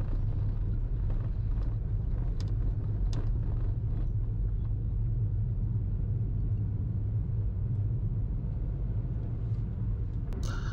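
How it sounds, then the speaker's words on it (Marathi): Trucks and cars roll slowly past on the Mumbai-Goa Highway near Lanja in Ratnagiri, in a steady, low engine rumble, with faint wind buffeting and no voices. "संथ गतीने गाड्या चालल्यात, ट्रक चाललेत."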